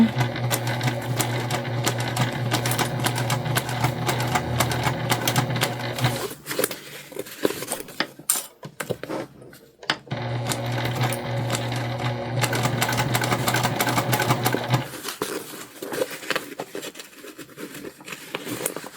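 A sewing machine stitches a bum bag in two long continuous runs of rapid, steady mechanical whirring, close and loud, separated by a brief pause of handling noise.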